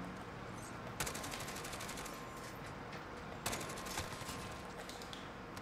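Automatic gunfire in the video game Modern Warfare, fired with golden tracer rounds: sustained rapid bursts with two sharp onsets, loud and continuous over a busy game background.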